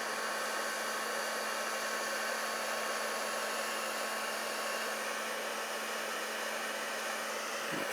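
A heat embossing tool blows hot air to melt embossing powder on a lace flower card, giving a steady, even whirring hiss that runs unbroken throughout.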